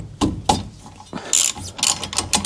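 A ratchet wrench fitted with an 11mm hex Allen key works loose the brake bolts on a Peugeot Expert van, giving loud, close bursts of rapid clicking interspersed with metallic knocks and short pauses.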